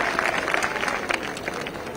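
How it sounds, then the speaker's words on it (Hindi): Loud applause for the Chief Minister at a public event, a thick, continuous round of clapping with a few sharper individual claps standing out, lasting the whole brief stretch. "एक बार फिर से जोरदार तालियों से आभार करें माननीय मुख्यमंत्री महोदय का।"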